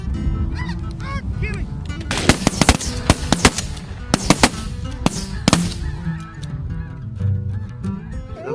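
Snow geese honk in a loud, overlapping chorus close by during a goose hunt, with several sharp shotgun blasts bursting through the calls in quick succession.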